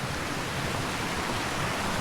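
Steady broadband rush of falling water from a waterfall along the Appalachian Trail near the Massachusetts–Connecticut border, a constant roar with no breaks or voices.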